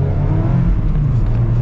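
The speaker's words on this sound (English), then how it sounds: "It's relatively easy to rev match downshift." Engine of a 2023 Mazda Miata RF with a manual gearbox revs up during a rev-matched downshift, a loud, steady low roar heard from inside the car.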